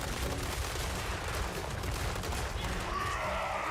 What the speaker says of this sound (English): You better shoot! You better shoot!